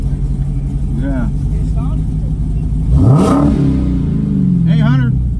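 Car engine revving before a race with a modded Camaro SS, the throaty rev swelling loudly in the middle and again near the end, close by, with people talking throughout.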